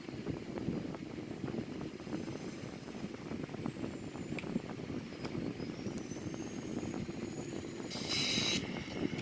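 Boeing 787 airliner engines spooling up for takeoff in a flight simulator, a steady broadband roar that builds slightly toward the end, with a high whine above it and no talk.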